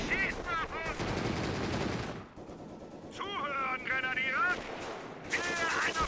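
Machine gun fire from a German MG42 nest in Company of Heroes, a World War II strategy game, crackles in sustained bursts among other battlefield gunfire, with a pause midway and loud ringing tones over a dense rumble.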